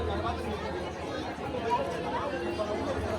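Crowd of pilgrims on the night path to Vaishno Devi near 11 pm, a dense murmur of many voices and shuffling movement close around, with nearby chatter on top.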